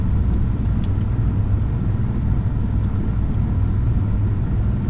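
Steady loud rumble of an airliner rolling and braking on the runway after touchdown in Microsoft Flight Simulator X, a constant low engine and wheel roar without any talking.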